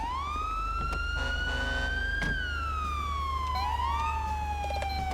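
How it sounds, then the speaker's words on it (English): A police car siren in GTA V wails steadily throughout, its pitch sweeping up and down, loud and continuous over a low engine hum. "Whose siren is going off?"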